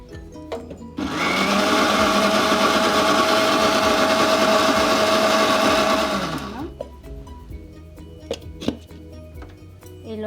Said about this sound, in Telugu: మొత్తం ఒక జార్లోకి తీసుకొని దీన్ని గ్రైండ్ చేసుకోవాలి.